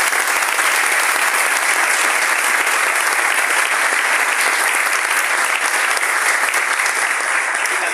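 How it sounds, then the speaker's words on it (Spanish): Audience at a theatre performance at the Centro Cultural Ricardo Palma applauds the cast in a loud, dense, sustained ovation of many hands clapping, unbroken and even throughout. "Un gran aplauso del cielo, por favor."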